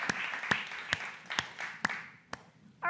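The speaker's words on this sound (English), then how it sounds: "let's give everybody a round of applause" A sparse handful of separate claps from an audience at a business conference talk, evenly spaced and fairly faint against a quiet room.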